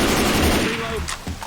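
Rapid gunfire in Left 4 Dead 2 during the Hard Rain campaign as players shoot at a survivor: a loud, dense burst of shots that fills the short moment, with voices mixed in.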